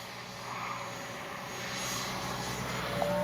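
An HSD Jets F9 Cougar 80mm electric ducted-fan RC jet on its maiden flight, its steady whooshing turbine roar building slightly as it passes overhead, heard alone without talk.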